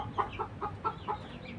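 Several hens cluck in short repeated bursts, evenly spaced and moderately close, in a backyard coop setting with no voices over them.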